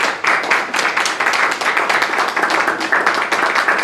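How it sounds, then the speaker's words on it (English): An audience claps for the candidates at a local Alabama House district debate, producing steady, dense, close applause with no pause and no talk over it. "let's give our candidates a round of applause for coming."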